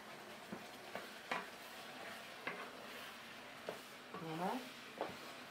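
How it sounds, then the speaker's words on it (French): Mushrooms with green, yellow and red bell peppers and onion frying in oil in a pan, a steady low sizzle broken by several short scraping stirs of a utensil. "j'ai fait revenir les champignons, poivrons jaune rouge comme vous voyez"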